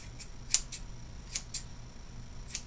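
Scissors snip through long-staple silk roving being prepared for carding with alpaca fleece, giving several sharp, crisp cuts spaced irregularly over a quiet low hum, with no talking.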